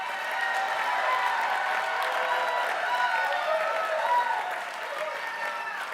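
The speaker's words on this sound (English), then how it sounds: "let's give Dennis Hughes a round of applause for all his leadership and good efforts" Steady, sustained applause from a large audience at a union constitutional convention, a dense wash of clapping that holds evenly for several seconds with no speech over it.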